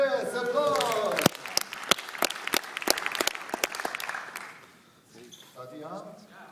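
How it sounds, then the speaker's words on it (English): Audience applause at a design contest in Drachten, a crowd clapping with sharp individual claps over steady applause, fading out toward the end as talk and stage noise take over. "Yes, applause."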